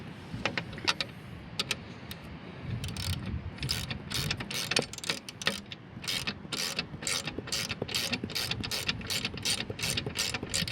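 A ratchet tightens bolts on a backup camera mount on a Bobcat E35i R2 excavator, giving repeated quick clicking bursts in a steady rhythm over a noisy mechanical background, close and moderately loud with no talk.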